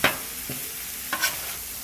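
Shredded pork being flipped and scraped while it browns in an Instant Pot, giving a few short scraping strokes over a faint steady sizzle, close and fairly quiet.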